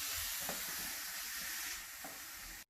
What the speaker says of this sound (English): now we will cook it down, and it will take some 3 to 5 minutes for the tomatoes to cook down